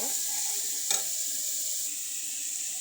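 Chicken pieces land in spice paste frying in a pan, bringing a bright, steady sizzle with one sharp clack early on, then an even hiss for the rest.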